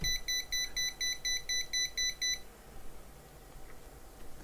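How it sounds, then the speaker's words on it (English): A cheap fan controller's alarm beeps rapidly in a steady run of short, high electronic pulses while the fan is stopped, then falls silent, leaving quiet background hiss. "if I stop the fan, it immediately starts beeping and the LED flashes"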